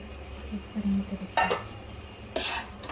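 A spoon scrapes and clinks around a pot of chicken curry, with a few sharp metallic knocks against the rim over a low simmering background.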